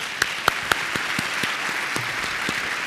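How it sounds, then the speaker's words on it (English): A crowd applauds steadily throughout, with a few sharper individual claps standing out near the start. "Another round of applause for WIT Energy."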